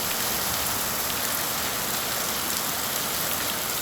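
Heavy monsoon rain pours steadily across Pakistan's Punjab, a dense, unbroken hiss of falling water that stays loud and even throughout, with no voices.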